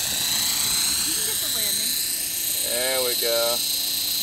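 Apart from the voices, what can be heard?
Belt CP radio-controlled helicopter landing in wind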